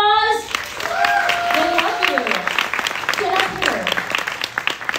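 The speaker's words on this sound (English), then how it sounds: "Listen to that applause!" Audience applause at a Universal Studios Halloween Horror makeup show, dense clapping that swells and holds, with voices and tonal sounds mixed in over it.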